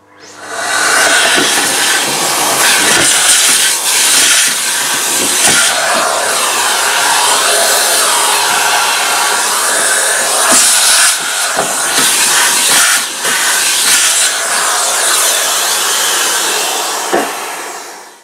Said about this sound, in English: what I like to use is a vacuum cleaner